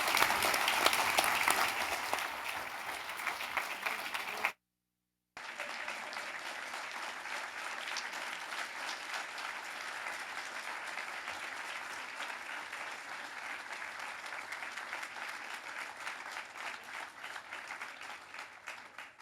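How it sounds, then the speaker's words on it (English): Audience applause at an anniversary celebration event, sustained clapping from a large crowd that cuts briefly, then continues evenly and slowly fades. "So let's give them a round of applause."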